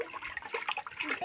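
A child splashing water while washing hands, a close, steady wet patter and spatter running through the whole short moment with no clear talk.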